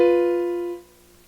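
A two-note white-key interval, an augmented fourth or diminished fifth, rings out as one clear, dissonant sustained tone for under a second, then cuts off abruptly into near silence.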